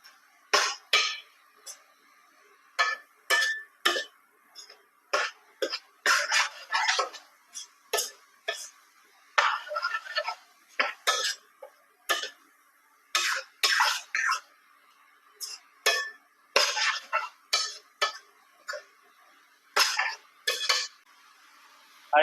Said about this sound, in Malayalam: നന്നായിട്ടൊന്ന് മിക്സ് ചെയ്ത് കൊടുക്കാവേ